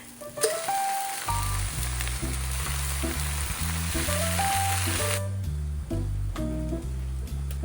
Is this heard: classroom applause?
no